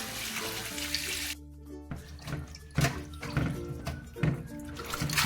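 Cut pieces of mundi rinsed under running tap water: a splashing flow broken by a short lull, then uneven splatters and thunks as the pieces are handled, with no speech.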